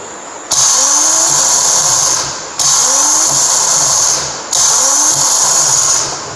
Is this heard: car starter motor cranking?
yes